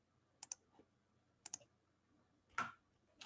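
A computer mouse clicked during image-analysis software work, sharp paired clicks that come in a few separate bursts, close and quiet, plus a slightly heavier click-clack toward the end.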